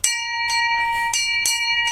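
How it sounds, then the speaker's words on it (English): A bell struck about four times at a steady pace, each clear ringing tone sustaining and overlapping the next, close and loud with no talking. "I'll ring that bell for that."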